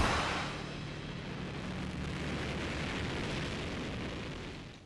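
Static test firing of a NASA SLS solid rocket booster at the Northrop Grumman facility in Promontory, Utah: a continuous, broad roaring blast that starts abruptly and holds steady, heard from a distance with no voices.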